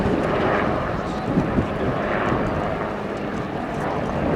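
A helicopter flies a display routine at the RIAT airshow, its broad rotor and engine roar holding steady at a distance with slight swells, while a commentator talks over it.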